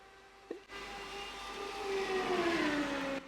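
Simulated race car engine in iRacing, a steady high-pitched drone whose tone drops and falls away as the driver lifts off the throttle into a flat-out corner, loud and alone.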